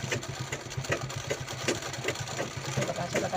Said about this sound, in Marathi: तर आपण याला मागे पुढे करून शिलाई लावून घेऊ.